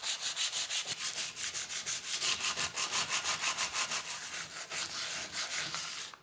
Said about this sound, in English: I've got the valve cover completely sanded down